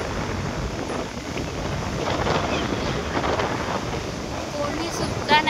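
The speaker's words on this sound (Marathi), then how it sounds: "किती समुद्र खवळलाय बघा." Rough sea at Shrivardhan, with a steady roar of wind and churning surf buffeting the microphone throughout, loud and continuous.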